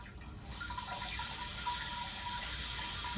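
Water sprays steadily from a Samodra bidet toilet seat attachment in a bathroom, a continuous hissing rush that starts softly and stays even throughout.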